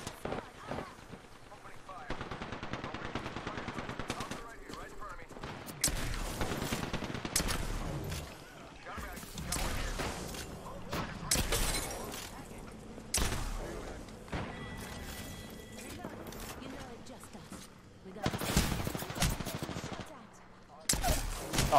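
Apex Legends video game gunfire: repeated bursts of automatic and single shots, some loud and close, others thinner and farther off. The shooting is irregular across the clip, with short lulls between volleys.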